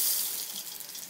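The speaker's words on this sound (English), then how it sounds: "And then you turn on the hot water." Hot water runs from a shower in a bathroom, a steady hiss that starts strong and tapers slightly over a second, with no voices.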